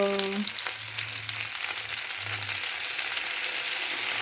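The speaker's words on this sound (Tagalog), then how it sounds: "ginisa ko na siya sa bawang at saka sibuyas" Chicken feet sauté in a pan with garlic and onion, giving off a steady, close sizzle and crackle that hisses on without pause.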